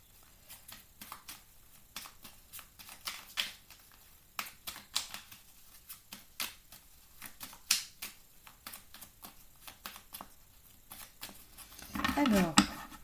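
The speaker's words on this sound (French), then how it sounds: "le temps de mélanger les cartes." Tarot cards being shuffled by hand produce a string of quick, crisp riffling snaps and clicks in irregular bursts, fairly close, with a louder dense flurry near the end; no talking.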